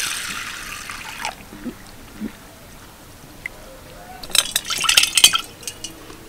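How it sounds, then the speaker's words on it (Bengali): Sago pearls being washed in water in a bowl: quiet sloshing and light clinks at first, then a burst of splashing, swishing water and small taps near the end. "এবার সাবুটাকে ভালো করে ধুয়ে নেব।"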